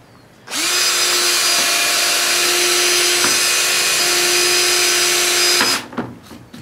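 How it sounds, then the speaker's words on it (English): A power drill with a larger bit bores through backer board on a Trapper Nelson–style backpack frame, running as one loud steady whine for about five seconds with a brief dip midway, then stopping. "I'm going to chase those holes all the way through with a bigger drill bit"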